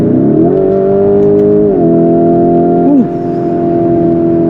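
A Lamborghini SUV engine revving hard as it accelerates, very loud and close with rising tones through gear changes, a brief dip near the end, then a steady drone.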